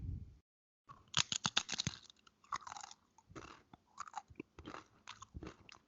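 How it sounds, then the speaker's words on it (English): A tortilla chip is bitten and chewed at a Mexican restaurant, heard very close as a quick run of sharp crunches followed by steady crunchy chewing, with no talking. "It's a tortilla chip, and it's the sound of me ruining my dinner at the Mexican restaurant."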